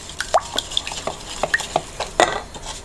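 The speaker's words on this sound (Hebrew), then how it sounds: "מערבבים את הכל" A spoon stirs canola oil, salt, baking powder and vinegar in a disposable cup, making close, light clinks and taps at an irregular pace over a soft swishing background.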